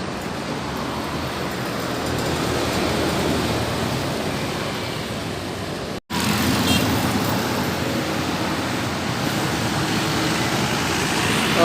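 A tour bus carrying students from Dumai passes along a road toward the Pekanbaru terminal, a steady broad engine and tyre roar that stays loud and close, broken only by a brief dropout midway.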